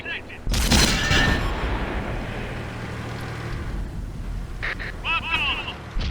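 A World of Tanks tank cannon fires a HEAT round with a sudden loud bang, followed by a long, fading rumble and clattering game effects.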